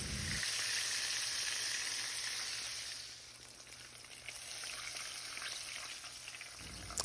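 Pork steaks fry in a pan with a steady, soft hiss and crackle of hot fat that eases slightly midway, heard close and without talk.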